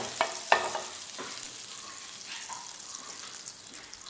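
Butter heating in a pan as the base for butter chicken gravy, giving a soft, steady sizzle broken by a few sharp clicks and clatters of a utensil near the start, with no talking.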